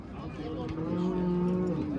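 A single long, low moo from a nearby cow at a livestock market, steady and droning for about a second, over outdoor background noise.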